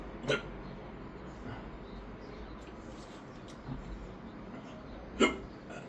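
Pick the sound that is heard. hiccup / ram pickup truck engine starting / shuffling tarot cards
hiccup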